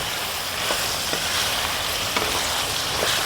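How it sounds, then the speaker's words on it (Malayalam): Chopped carrot and onion stirred in a hot pan for Kerala-style chicken stew, a dense continuous sizzle with a few faint scrapes of the spoon against the pan, close and steady throughout. "ഒരു ക്യാരറ്റ് അരിഞ്ഞത്, ഒരു സവോള കട്ട് ചെയ്തത്, ഇതെല്ലാം കൂടെ നമുക്കൊന്ന് ഇളക്കി"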